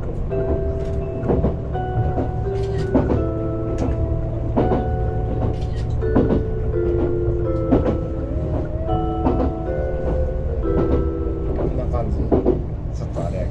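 A Kintetsu limited express train, the Aoniyoshi… rumbles steadily along the rails with rhythmic clacking and squealing metallic tones, heard from inside a carriage with a voice talking over it.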